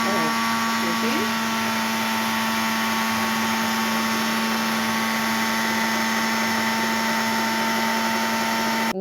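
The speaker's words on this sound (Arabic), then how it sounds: "وواحده واحده كده على الخلاط نفصل ونشغل تاني عشان ايه نحافظ عليه" A loud, steady blender whir runs without pause, a dense motor roar close by throughout.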